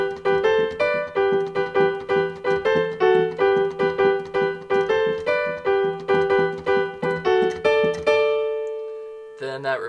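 Piano plays a song's riff, a bouncy repeating pattern of short chords and melody notes over roughly eight seconds, ending on a held note and a brief final chord, close and clear with no talking.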